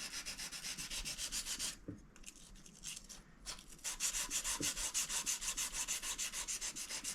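Scalpel blade sharpened by hand on a stone, held in one hand: steady rhythmic rubbing strokes, close and fairly loud, with a brief pause midway before the even back-and-forth scraping resumes.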